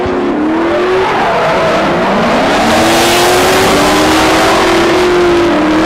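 Drift cars run tandem through a 2018 Colorado drift competition round, a loud, continuous roar of revving engines with rising and falling pitch and tire squeal, close and dense throughout.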